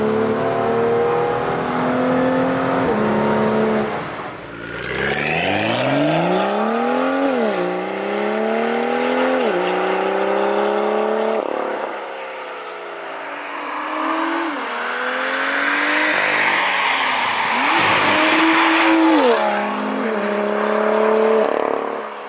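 A BMW M2 F87 with its N55 engine and Clubsport conversion revs and accelerates through the gears, engine note rising and dropping with each shift, loud and close with a raspy, droning exhaust tone throughout.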